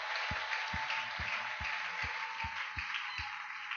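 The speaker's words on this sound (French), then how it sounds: "Applaudissons fort" A church congregation applauds as a steady, moderate patter of clapping, with a regular low thump beating beneath it at roughly half-second intervals.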